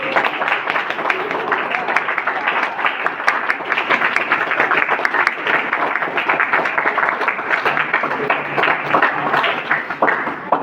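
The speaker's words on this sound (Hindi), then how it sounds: "भविष्य के लिए जोरदार तालियां।" Audience at a Republic Day program clapping loudly and continuously, a dense steady patter of many hands that stays strong from start to finish.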